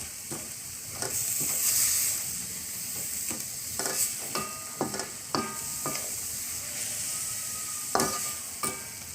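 Amaranth greens with grated coconut are stirred in a pan over heat, with a soft steady sizzle broken by repeated sharp scraping and tapping strokes of a spatula, fairly faint and with no talking.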